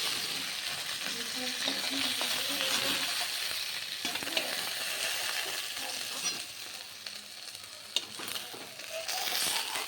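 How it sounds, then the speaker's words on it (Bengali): Taro stolons (kochu lati) frying in oil in a pan, a steady broadband sizzle with stirring clatter throughout, a few sharper scrapes and pops, no talk. "কচুলতিগুলো ভেজে নিচ্ছি"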